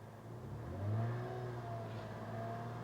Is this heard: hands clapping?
no